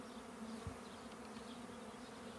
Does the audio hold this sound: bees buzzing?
yes